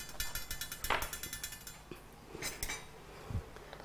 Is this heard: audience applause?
no